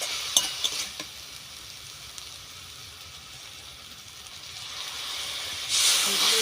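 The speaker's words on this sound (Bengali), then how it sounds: "এবার আমি অল্প করে একটু জল দিয়ে দেবো।" A little water goes into a hot pan of sautéed khesari greens, bursting into a loud hiss of sizzling steam near the end after quieter frying and a few utensil clinks.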